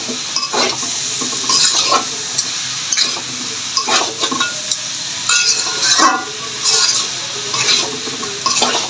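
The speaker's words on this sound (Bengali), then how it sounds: "এবার আরেকটু ভালো করে মজিয়ে নিব কপির সাথে সব কিছু।" Cabbage being stirred and mixed with spices in a pan, a steady scraping and sizzling texture with repeated spatula strokes against the metal, close and fairly loud, with no talking.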